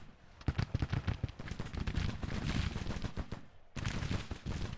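Massed musket volleys from brigades in Grand Tactician: The Civil War, dense crackling rifle fire rolling continuously with loud bursts, a brief gap, then the crackle resuming.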